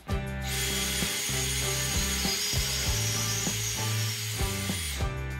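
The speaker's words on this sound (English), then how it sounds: "Now I can finish drilling the rest of it." A power drill boring into wood for a floating shelf bracket, with a steady loud whir broken by repeated ratcheting clicks and knocks, close and alone.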